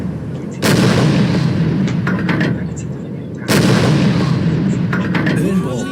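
A U-boat's deck gun fires two loud, booming shots about three seconds apart while attacking Allied shipping, each blast followed by a rumbling tail.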